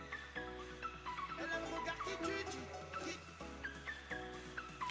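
A synthesized melodic smartphone ringtone plays, with repeating high chime notes over a steady electronic backing that briefly drops out and returns.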